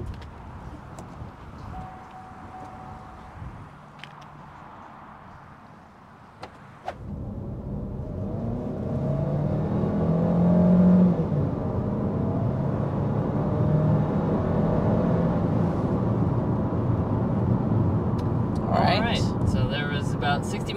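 A 2023 Chevy Equinox RS with a 1.5-liter turbo engine accelerates to 60 mph, heard from inside the cabin as a rising engine and road rumble that swells and holds after a quieter stretch, with a voice talking over it.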